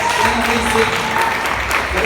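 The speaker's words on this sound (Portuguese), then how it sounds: "Aplauda o Senhor bem forte" Church congregation clapping hard and continuously, a thick unbroken roar of hands with talk and voices woven through it.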